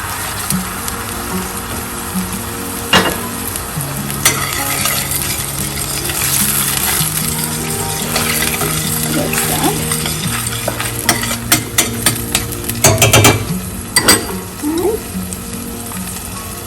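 Tomato sauce goes into a sizzling curry in a pan and is stirred. Steady frying hiss runs under repeated scraping and clinking of a spoon against the pan, close up, with brief talk.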